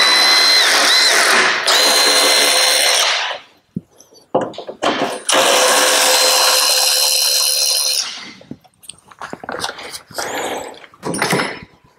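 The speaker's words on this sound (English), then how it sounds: "So when we undo the bolts, it should come right out." A power tool undoes the bolts on the AC condenser of a 1992 BMW E34 M5, in two long loud bursts of whirring with short rattling taps between them and some further brief bursts toward the end.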